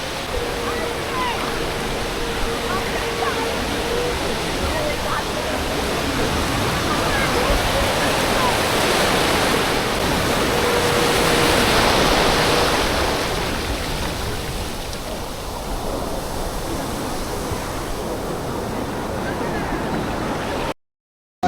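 Sea waves roll onto Puri beach in a continuous loud, broadband rush of surf, with no clear breaks, and then stop abruptly at the end.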